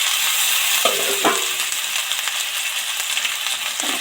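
Tomato and potato pieces fry in hot oil with garlic for a prawn curry, making a loud, steady sizzle close by, with a few metallic clinks from the spatula early on.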